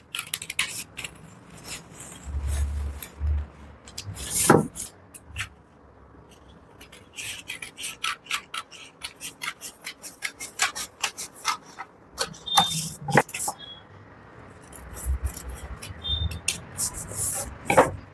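Scissors snipping through a paper pattern to shape an armhole for a 38-inch bust garment, close, dry rasping cuts in irregular bursts separated by quiet pauses, with paper rustling and handling noises.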